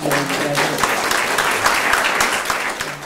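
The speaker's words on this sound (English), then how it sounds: "I would like, first of all, to have a round of applause for our guests." An audience at a political talk gives its guests a round of applause, dense and loud clapping from many hands filling the room, with murmuring voices underneath.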